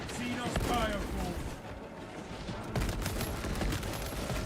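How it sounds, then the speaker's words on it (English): Rapid heavy bolt rifle fire from the video game Space Marine rattles in dense continuous bursts amid battle noise, loud and close, with a voice speaking partway through. "Heavy bolt rifle is really good for this section right here. Very good, very powerful gun"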